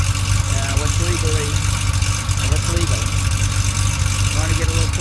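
A 1983 Porsche 911 hot rod idles with a loud, steady low exhaust rumble that stays continuous throughout, with a faint irregular burble on top.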